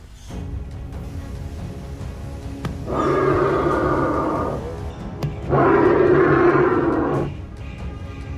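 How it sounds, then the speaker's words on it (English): An Australian bustard gives its mating call, two deep, drawn-out roaring booms much like a lion's roar, each lasting about two seconds, loud and close over faint outdoor background. "A mating call of the Australian bustard is something you have to see and hear to believe. It sounds like a lion's roar."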